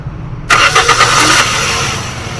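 Toyota GLI 1.3 car engine with a missing fault suddenly cranks and catches, then revs in a few quick pulses before settling into a rough, steady run, loud and close with no talking.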